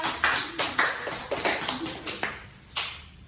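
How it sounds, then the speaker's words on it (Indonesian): Primary school classroom clapping for a student group, a short series of distinct, fairly faint claps in an uneven rhythm, with a few voices in the room. "tepuk tangan untuk kelompok 2"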